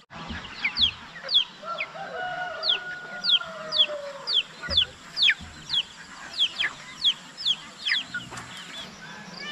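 A mother hen on a farm clucks in a steady run of sharp, repeated calls while being shut in a cage away from her chicks, with faint farmyard background noise.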